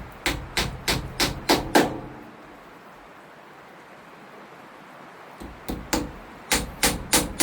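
Wooden dowels tapped into a DIY dowel jig, heard as two runs of six sharp, evenly spaced knocks, close and crisp, separated by a quiet pause of several seconds.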